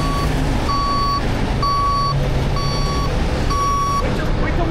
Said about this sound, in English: He's just backing up and he's gonna park right here in front of this truck.